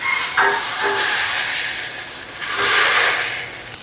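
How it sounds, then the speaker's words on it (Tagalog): A cup of water goes into vinegar already boiling in a pot for sweet and sour tilapia sauce, setting off a loud broad hiss of steam that swells, eases, then surges again close by. "Kumukulo na. Lagay ko ang 1 cup na tubig."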